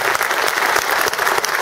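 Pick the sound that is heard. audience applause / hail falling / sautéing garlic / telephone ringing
audience applause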